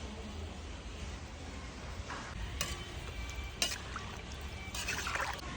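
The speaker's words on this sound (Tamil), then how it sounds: "இப்போ 1 லிட்டர் தண்ணி ஊற்றிக்கலாங்க" About a litre of water is poured into a pot of mutton curry cooking over a wood-fired stove, giving a steady faint splashing and trickling, close but quiet, with a few sharp clinks of the pot.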